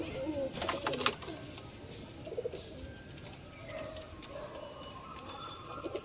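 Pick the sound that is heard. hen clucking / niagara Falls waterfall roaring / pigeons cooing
pigeons cooing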